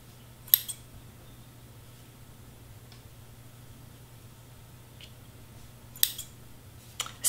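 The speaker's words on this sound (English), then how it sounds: "And let's cut some pink string." Scissors snip pink string in a quiet room, with a few sharp, isolated cuts spaced several seconds apart over a low steady hum.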